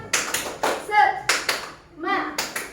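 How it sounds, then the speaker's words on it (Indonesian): A group claps a rhythmic spirit clap (tepuk semangat) at a school positive-culture session, loud close bursts of clapping in a set pattern with short pauses between them, and children's voices join in between the claps. "Nah, jadi tepuk semangat."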